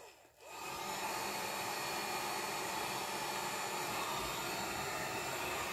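A heat gun or hair dryer blows a steady, loud stream of hot air across a plastic guitar pickguard cover, starting after a brief quiet moment and holding a constant roaring whoosh throughout.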